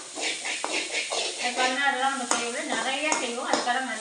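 Grated coconut filling for kozhukattai is sautéed in a pan, giving a soft sizzle and repeated stirring scrapes, while someone talks over it throughout.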